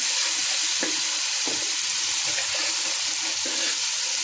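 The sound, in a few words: chicken liver sautéing in oil on medium gas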